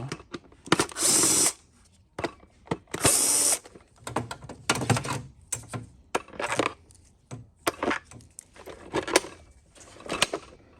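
Screws are backed out of the plastic housing of a Bissell TurboClean PowerBrush carpet cleaner with a powered driver, in a series of short whirring bursts separated by pauses and small clicks, close by with no talk.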